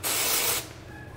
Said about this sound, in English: if you need to go in and add a little bit more of dry shampoo in the front, you can